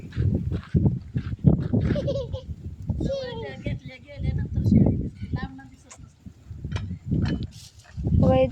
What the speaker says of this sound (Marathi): बघा इथं शेळी.